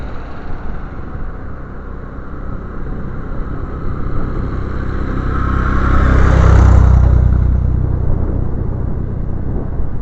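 A tractor approaches and rumbles past on a road, the low engine noise swelling to a peak partway through and then fading, with no talk.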